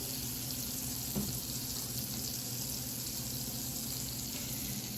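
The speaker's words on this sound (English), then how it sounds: "Look at that butter sizzling in this" A steady, close sizzle of butter frying in a hot pan, a constant crackling hiss with a faint low hum underneath.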